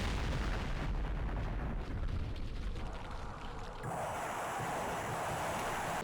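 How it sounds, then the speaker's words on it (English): Rocket batteries fire in Campaign Series Vietnam during the Battle of Dak To: a sustained, roaring rumble of launches and blasts, with the wash of noise shifting and brightening partway through, and no voices over it. "Those are rockets."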